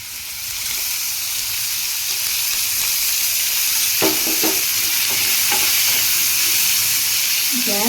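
Chutney ingredients fry in oil in a pan over medium gas, a loud, steady sizzle and hiss close up, with a few stirring scrapes partway through.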